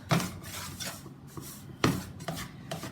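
Homemade playdough being kneaded by hand, with flour worked into the dough: soft rubbing and pressing sounds in irregular pushes, with two sharper thumps standing out, close up and with no talking.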